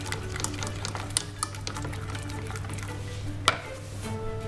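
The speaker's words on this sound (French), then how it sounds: "On mélange bien jusqu'à ce qu'il n'y ait plus de traces." A spoon or whisk stirs egg yolks into chocolate cake batter in a bowl, giving soft, steady scraping and clicking with a few sharper knocks against the side, close and fairly quiet.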